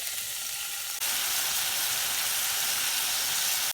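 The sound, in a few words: meat frying in a pan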